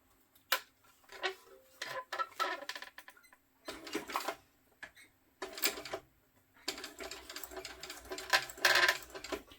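A sewing machine back stitches across the card slots of a sling crossbody bag, with short, uneven bursts of mechanical stitching and clicks, close and moderately quiet, broken by pauses.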